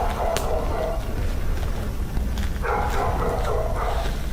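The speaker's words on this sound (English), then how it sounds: "more dogs still barking from inside" Several dogs bark and yip inside a building, the barks coming in repeated bursts over a steady background rumble, fairly close and loud throughout.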